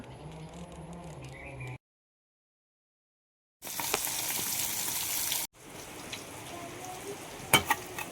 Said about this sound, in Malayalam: മീൻ പൊരിക്കണുണ്ട് കേട്ടോ ചൂടാണ്